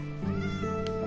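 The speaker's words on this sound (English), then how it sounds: "It's a kitty!" A Minecraft cat gives one clear, close meow, a drawn-out tonal call that slides in pitch, heard alone without talk.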